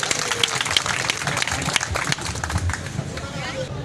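Applause rises from a crowd at a gathering of Karachi electronics dealers, a busy mix of clapping and crowd murmur with scattered sharp claps standing out, with speech and babble mixed in throughout.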